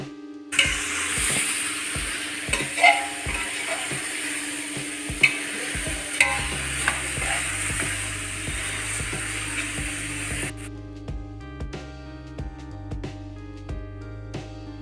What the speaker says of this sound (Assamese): লৰাই মাংসখিনি ভাজিব লাগিব